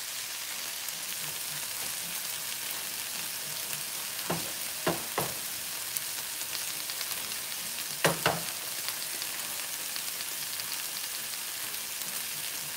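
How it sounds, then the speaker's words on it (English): Steady, even sizzling of meat and bacon frying on a hot griddle for tacos de alambre, with a few sharp clicks and scrapes partway through; no voices. "the sizzling sound"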